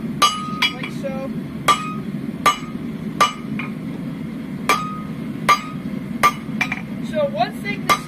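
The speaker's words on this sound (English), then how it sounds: "I'm going to continue thinning this down." Steel ringing under a hammer on an anvil as a blacksmith thins down a workpiece, with sharp metallic strikes at uneven intervals, some in quick pairs, over a steady low background rumble.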